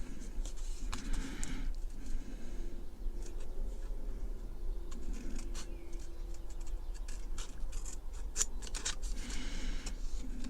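Small, sharp bargain-shop scissors snip through a strip of tape while a Corgi 490 VW breakdown truck model is being restored; the quiet, crisp cuts and light scratchy handling noises come close up against a near-silent room.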